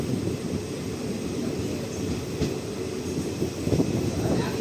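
Passenger train pulling away from Kailasapuram station on the Madurai to Tuticorin line, heard from on board as a steady low rumble and rattle of wheels and carriages, continuous and even, without talk.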